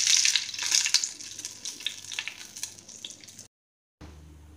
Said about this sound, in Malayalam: കടുക് പൊട്ടിക്കഴിയുമ്പോൾ നമുക്ക് ഈ മുളകും കറിവേപ്പിലയും ഇട്ട് കൊടുക്കണം.